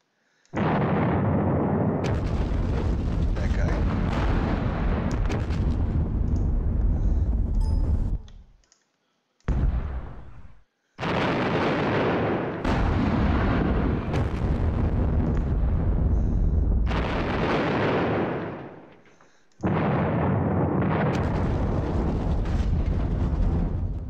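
Artillery fire in the World War II strategy game Battles of Normandy, Operation Goodwood: loud sustained blasts and rumbling booms in several long bursts separated by brief silent gaps, with no talking.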